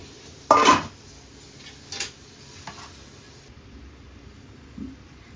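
A metal lid is set onto a pan of gongura and dried-prawn curry simmering on low heat: one sharp, close clatter, followed by two lighter clinks and then quiet kitchen background.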